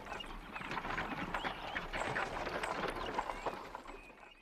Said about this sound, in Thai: ชนะหยุดรถม้าก่อนสิ